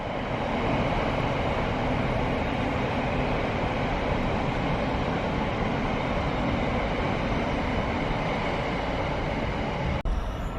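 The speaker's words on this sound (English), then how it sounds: "that double-headed freight is on the way now" A double-headed freight train, pulled by two locomotives, rumbles past at close range as a loud, steady, continuous roar of engines and rolling wagons that holds unbroken for the whole stretch.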